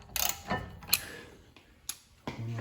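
A breaker bar working loose the 15mm bolts on a car's brake caliper gives a few sharp metallic clicks and creaks, separate and close. A short low hum sits under the last one.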